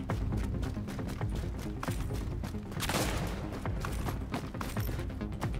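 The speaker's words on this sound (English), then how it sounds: "Who's shooting me?" Rapid gunfire aimed at the player in The Division, dense, crackling volleys of shots running continuously at moderate loudness, with a brief louder rush near the middle.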